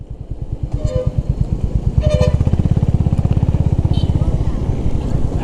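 A Honda CB350RS motorcycle accelerates on a highway, its engine thumping in a loud, rapid, even pulse that climbs in pace. Wind rush runs under it, and someone talks briefly over the engine.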